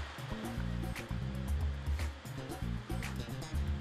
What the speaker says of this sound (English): Now I'll sit under the dryer like this for about 15 minutes